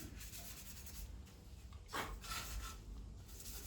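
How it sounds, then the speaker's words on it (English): Close-up sanding of a hockey goalie mask, a dry rhythmic rubbing and rasping against its hard surface, repeated in short strokes with no talking. "the only way you get that is by sanding it or scuffing it"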